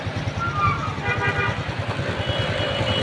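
A motorcycle ridden toward Latur gives a steady, close engine putter with rhythmic low pulses and road noise throughout, loud and continuous with no pauses.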